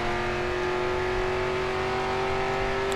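A Chevrolet race car engine in the Grid 2 racing game drones at sustained high revs, a steady, tonal roar with no talk over it.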